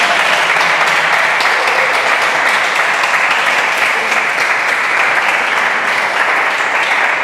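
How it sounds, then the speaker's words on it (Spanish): A church congregation claps together in dense, steady applause that stays loud and even throughout, with no pause. "Vamos, dele palmas al Señor."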